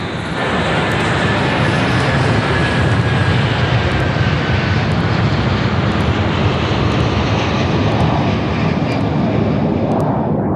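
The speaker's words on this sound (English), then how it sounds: "At 10 minutes past 8, the Airbus A330, loaded with over 47 tons of fuel, left Toronto for Lisbon." Loaded Airbus A330 jet engines roaring during takeoff from Toronto, a loud unbroken rumble with a faint rising whine running throughout.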